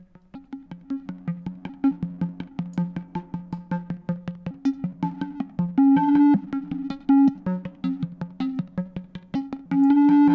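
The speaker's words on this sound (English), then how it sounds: "you can hear the random voltage doing that kind of syncopated thing in the background" Buchla Easel V synthesizer pulses tick out an uneven, syncopated pattern of short tones driven by random voltage, with sustained feedback swells breaking in now and then, clear and close.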